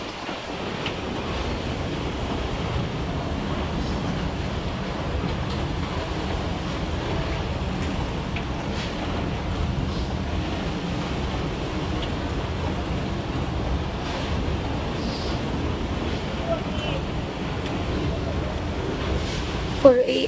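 Strong waves and gusting wind during Typhoon Kristine in the Philippines, a continuous loud roar of surf and wind that persists throughout with no break.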